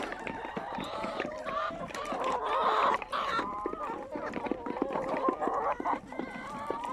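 A rooster crows and clucks repeatedly among other farmyard fowl, fairly close, with a busy bird chorus continuing throughout.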